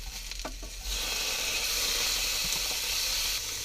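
Chunks of lamb's liver hit a hot pan beside onions and chilli, bursting into a loud, steady sizzle that holds strong from the first second onward, with a few soft clinks near the start.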